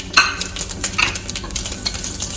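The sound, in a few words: whole spices sizzling in hot oil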